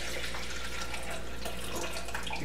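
Water pours steadily into a coffee maker reservoir, a continuous faint splashing trickle with no voices over it.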